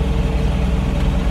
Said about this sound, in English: It's got a Yanmar diesel engine in it.